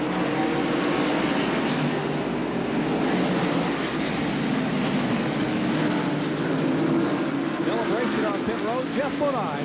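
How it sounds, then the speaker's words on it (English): NASCAR stock car engines roar on the final lap of the 1994 Tyson Holly Farms 400 at North Wilkesboro, a dense, steady loud drone of racing cars with crowd and track noise throughout, no pauses. "Rick Mast nearly catches the concrete as we still have a couple of cars bumping and banging here on the final lap"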